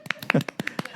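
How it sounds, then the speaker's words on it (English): Light, slow golf clap: a handful of soft, spaced hand claps close up, with a voice briefly mixed in. "Golf clap."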